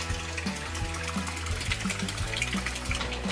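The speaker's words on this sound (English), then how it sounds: "The motor spun so fast that water splashed everywhere" A LEGO motor spins a long three-blade propeller in a glass water tank, making a steady churning, splashing water sound with faint rhythmic low pulses throughout, moderately quiet and without speech.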